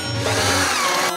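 A power drill whirs steadily for about a second while a bed frame is being assembled, a loud close motor whine with a shifting pitch and no talking.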